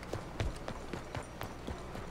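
A horse gallops in the video game Red Dead Redemption 2, with a steady, evenly spaced run of hoofbeat thuds, close and moderately loud with no talking.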